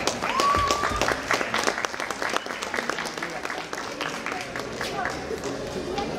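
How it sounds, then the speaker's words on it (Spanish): Sustained applause and clapping from a crowd at a Hot Wheels collectors' event, loud and continuous throughout, with a voice speaking over it near the start. "Un fuerte aplauso, por favor."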